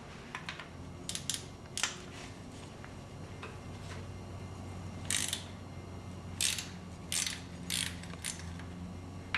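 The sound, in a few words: ratchet removing 12mm bolts of Nissan KA24DE alternator bracket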